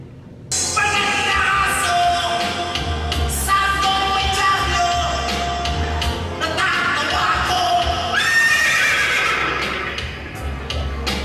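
A voice imitates a horse's neigh in loud, shrill whinnying bursts that carry on almost continuously, straining and wavering, close to the listener.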